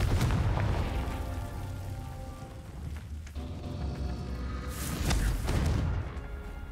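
A Confringo spell explodes in the Hogwarts Legacy video game as a rolling, moderately loud boom with crackling rumble. A second burst swells near the end, and no voice is heard over it.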